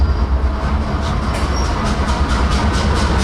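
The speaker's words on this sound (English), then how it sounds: "And here comes the train." A train rolls past close by, its steady loud rumble and rhythmic clatter of wheels over rail joints filling the whole stretch, with no voices over it.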